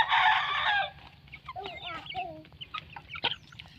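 Chickens close by, with a rooster's brief crow followed by a run of clucks and squawks over a low background hum, plus a few faint human sounds.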